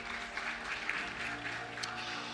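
Audience members at a distinguished alumni lecture applaud a guest doctor, a steady, moderately loud spread of clapping over a constant low room hum, with a short sharp tap late on.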